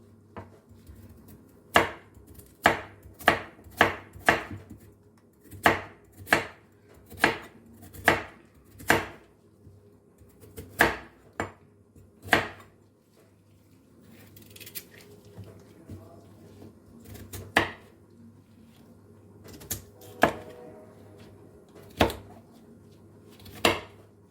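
A knife chops food on a cutting board in sharp, steady strokes, with short pauses between bursts.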